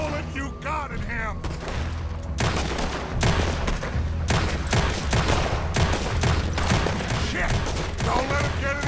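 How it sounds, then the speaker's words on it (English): Gunfire from the video game Red Dead Redemption 2, rapid bursts of loud shots and booms alongside mechanical clatter, with a brief shout mixed in near the start. "Put every bullet you got in him!"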